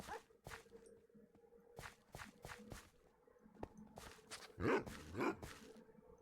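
Dogs in the Minecraft video game give a series of short, sharp barks and whimpers scattered irregularly among footstep-like clicks, fairly faint and with no voices.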